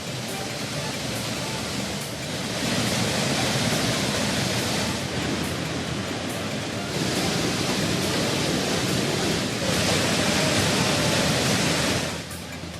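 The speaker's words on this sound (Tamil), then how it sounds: "கன்னியாகுமரி மாவட்டம் திருப்பரப்பு அருவியில் தண்ணீர் ஆர்ப்பரித்து கொட்டுகிறது" Thirparappu waterfall in Kanyakumari gushes in full flood after continuous rain, a dense, steady roar of falling water that fills the whole stretch, swelling slightly at moments, with no voices over it.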